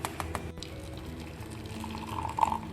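Gravy granules are poured into hot water and mixed, a faint, soft liquid trickle and swirl with light clinks, growing slightly louder toward the end.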